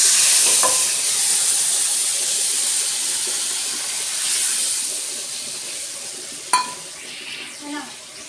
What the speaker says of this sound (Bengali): এবার তেলে আস্তে করে আমি এটা ছেড়ে দেবো।